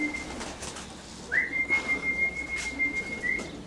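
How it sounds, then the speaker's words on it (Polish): Racing pigeons flying in to land at a loft, with a thin steady whistle running through most of the moment and soft fluttering wingbeats, moderately near, set against quiet outdoor background. "Tutaj te gołębie ciągle nadlatują"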